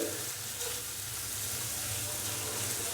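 Garlic paste frying lightly in oil with cumin, a steady soft sizzle that runs the whole time, close by with no talking.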